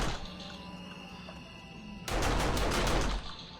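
An auto turret in 7 Days to Die opens fire on a radiated feral cop: a low hum of background game noise, then about a second of loud, rapid automatic shots before it cuts back.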